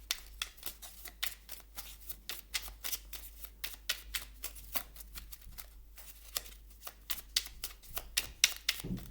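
Oracle cards are shuffled by hand in quick, crisp riffling bursts, close and fairly quiet, with a faint steady hum beneath and no talking.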